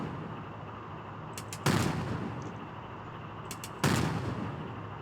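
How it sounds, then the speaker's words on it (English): Two heavy tank cannon shots in the Brick Rigs video game, each a sudden loud boom that rolls off slowly, spaced about two seconds apart over a constant engine-like rumble. "I'm really not used to shooting at this tank, so bear with me."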